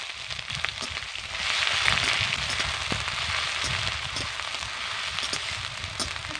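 Chopped onion softening in hot oil in a pan, giving a continuous moderate sizzle with scattered crackles and pops, steady throughout without pauses.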